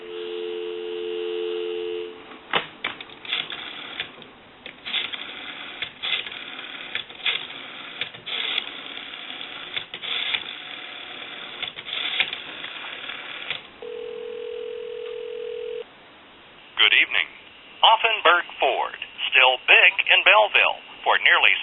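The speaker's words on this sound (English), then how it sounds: "We'll go ahead and give you some dial tone." A steady telephone dial tone hums on an ITT 554 rotary wall telephone, then a series of clicking rotary dial pulses and a brief tone, followed by busy tonal signaling near the end.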